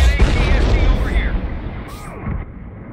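Gunfire and blasts rumble through a busy battle in the Star Wars Battlefront video game, with dense crackling shots over a deep booming background.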